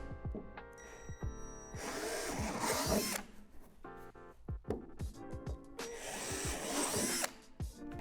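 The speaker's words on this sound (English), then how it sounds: "Drill them out with a 3/8 drill bit." Bursts of a power drill with a 3/8 bit whirring into a plastic swing-set slide, starting and stopping several times, close up, with brief pauses and clicks between runs.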